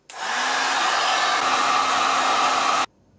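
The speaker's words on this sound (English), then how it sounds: "the white marks that you see underneath the ABS part can be quickly removed using a heat gun" A heat gun blowing hot air to clear white residue from the underside of an ABS 3D print, a steady close rushing whoosh that switches on abruptly, holds for nearly three seconds, then cuts off.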